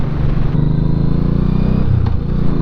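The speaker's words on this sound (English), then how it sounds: "Listen to that pull. It's actually really fast when you consider it's a 1980s bike." A 1985 Honda Shadow motorcycle engine pulls under acceleration, a loud, close, steady rumble that shifts pitch partway through.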